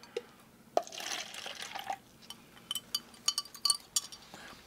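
Sweetened tea from a French military ready-to-eat ration is poured into a cup close by, a splashing, trickling stream followed by clinks and drips, with no talk.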